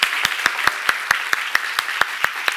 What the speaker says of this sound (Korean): 박수 좀 세게 쳐봐